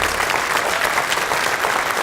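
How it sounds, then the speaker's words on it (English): Banquet audience at a Washington High School Hall of Fame induction giving an inductee a round of applause, steady dense clapping filling the room throughout. "I'd like to ask Nate to stand and us to give him a round of applause."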